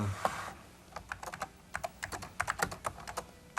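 Quick bursts of keystrokes on a 1991-era computer keyboard, irregular clattering taps in short runs, close and fairly quiet.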